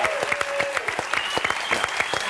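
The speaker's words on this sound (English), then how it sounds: "Big round of applause for her and for all of our guests tonight" A studio audience at an awards show breaks into lively applause, a steady crackle of many hands with a few sharper claps standing out, moderately loud throughout.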